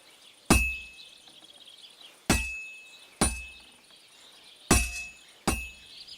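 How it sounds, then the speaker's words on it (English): Hammer striking a sword on an anvil at a blacksmith in Kingdom Come: Deliverance II, five sharp ringing metallic blows at uneven intervals, each loud and close with a short decaying ring. "Now take the hammer and try hitting it a few times."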